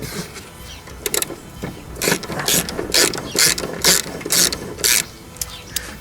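A hand ratchet backs off large 16 mm bolts on a coilover strut during a BC Racing install on a 9N3 Polo GTI, its pawl clicking in a steady series of sharp, close bursts.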